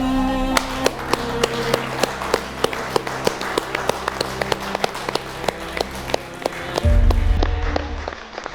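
A standing audience applauds at a ceremony, with dense sustained clapping and a few sharper, louder claps over a low hum. The crowd noise swells briefly near the end.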